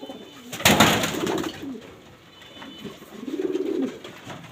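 Racing pigeons from a loft coo nearby, soft throaty calls coming in a few rolling phrases, with one louder flutter-like burst near the start.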